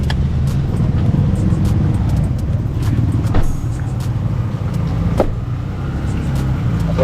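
A car parking, with a continuous close engine rumble and road noise throughout, a few faint clicks and knocks on top, and no clear speech.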